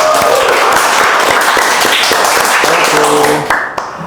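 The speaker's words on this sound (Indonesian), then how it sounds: "Oke, tepuk tangan dulu dong" Applause from a small group of guests in a podcast studio, a dense, steady patter of claps that runs for about three and a half seconds and then thins out into a few scattered claps.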